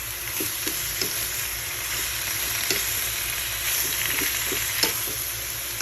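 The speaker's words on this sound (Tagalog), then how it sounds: "Gagamit ako nitong, wood na pangsukay kasi yung ginagamit ko is medyo malambot siya." A wooden spoon lightly stirs menudo in a pan. Soft scraping strokes repeat over a steady sizzle, close up and with no talking.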